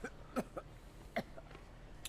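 A character in the Spider-Man video game coughs faintly, two or three short, dry hacks with small breathy gaps, quiet and low in level.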